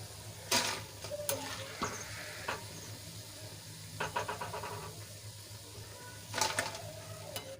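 A faint hiss of hot oil from frying besan snack, with soft scrapes, clinks and rattling stirs in short bursts, close but low in level and without talk.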